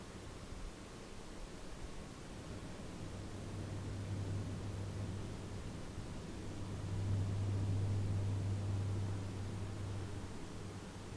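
Steady airy whoosh of a computer case fan running close by, with a faint low hum that strengthens midway; no voices.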